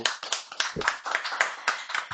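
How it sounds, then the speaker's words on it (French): A small studio audience claps for a guest on a French arts television show, close and brisk, with uneven bursts of hands for about two seconds. "on t'applaudit"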